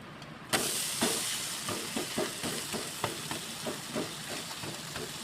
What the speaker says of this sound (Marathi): आता डोसा आहे त्याला असं पलटी करून घ्यायचं आहे